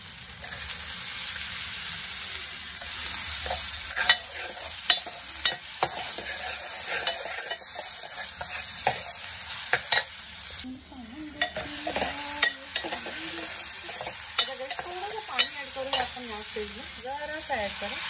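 Onion and tomato fry in a pan with garam masala, giving a continuous close sizzle punctuated by repeated scraping stirs and spoon taps against the metal, with a warbling tonal sound rising in the later part.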